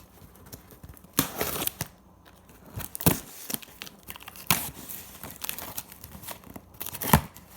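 Packaging of a 360fly panoramic HD camera being torn and crinkled open, with irregular ripping and rustling bursts close up, scattered across the clip and no talking.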